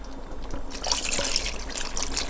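Reserved wine liquid being poured over cooked pasta for chicken French, a steady splashing trickle that starts after a brief quiet moment and continues close up.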